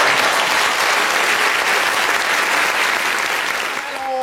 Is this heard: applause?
yes